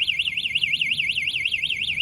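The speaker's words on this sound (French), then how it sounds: "Oh, il y a l'alarme d'origine, gros." Factory-fitted alarm on a Goboard Titan electric scooter, a loud, close electronic siren whose pitch sweeps up and down in rapid, regular warbles without pause.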